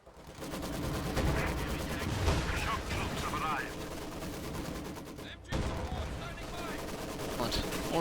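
Dense gunfire and heavy explosions pound a church in a Company of Heroes 2 battle, sustained bursts and blasts layered under a commentator's voice, with a short break before the barrage resumes.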